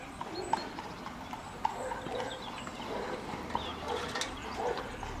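Horses pass by on a countryside lane during an autumn steam railway gala at Stogumber, their hooves giving faint, distant clip-clops under general outdoor ambience.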